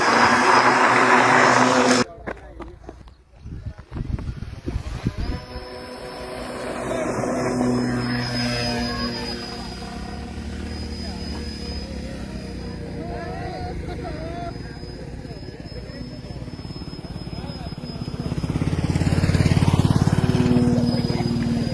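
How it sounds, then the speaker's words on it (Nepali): A homemade model airplane built by three brothers drones overhead outdoors, a thin buzzing propeller whine that holds steady and drifts as it flies, with people talking over it. "हामी यो हवाई जहाज उडाउनको लागि उनको घरबाट खुला ठाउँमा जाँदैछौँ।"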